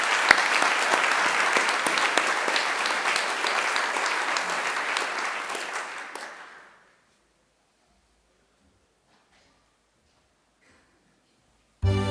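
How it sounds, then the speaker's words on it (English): Sustained applause from a graduation ceremony audience at Macquarie fills the first six seconds, then fades into near silence before a brief burst returns at the very end. "Let's give her another great round of applause."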